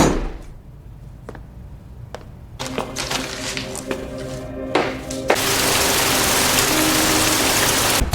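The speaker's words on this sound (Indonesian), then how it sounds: "malam pun diguyur hujan" Rain falls at night in a film scene: sparse knocks and clatters give way to a loud, steady downpour hissing densely for the last few seconds.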